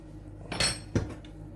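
A bowl knocked and set down in a home kitchen while preparing stuffed tomatoes, heard as two quiet, close clinks about a third of a second apart.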